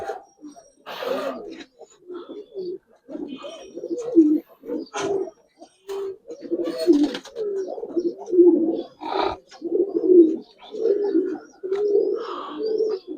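Giribaz and Army pigeons coo steadily nearby in a low, throaty rhythm of repeated bursts, with a few faint higher chirps mixed in and no talking.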